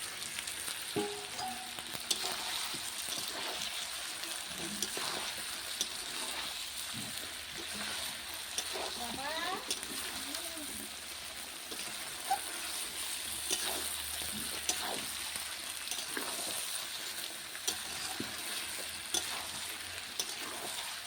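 Chicken and fried potatoes frying in oil in a home kitchen pan, a soft continuous sizzle broken by occasional clicks of stirring, fairly quiet and with no voices.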